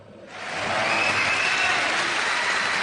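An audience breaks into applause, swelling within half a second into a dense, loud, sustained clapping that holds steady before cutting off abruptly.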